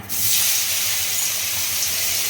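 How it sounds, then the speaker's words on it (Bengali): Mushrooms fry in a little oil, giving a loud, continuous sizzling hiss that starts abruptly and holds steady and close. "এই যে আমি এখন এই মাশরুমগুলোকে একটুখানি তেলে ভেজে নিচ্ছি"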